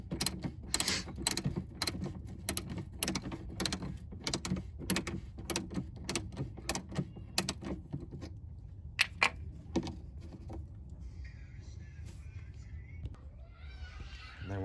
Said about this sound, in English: Unscrew this.